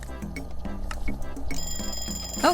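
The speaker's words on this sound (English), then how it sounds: "Oh, it is an alarm." An alarm in the Papa's Mocharia video game rings as a fast, bright trilling bell, loud and continuous over game music, with a sharp chime at the end.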